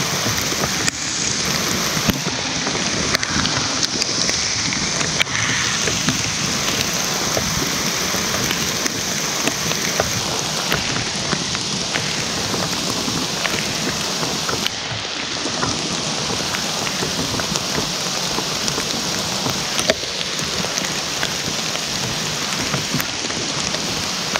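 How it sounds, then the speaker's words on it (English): Hard, heavy rain pounds on a camping tarp as a loud, unbroken wash of noise that holds steady for the whole stretch, with sharper drops ticking through now and then. "Monty, it's raining so hard."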